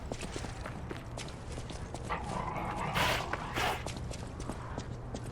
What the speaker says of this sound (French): Oh, un chien.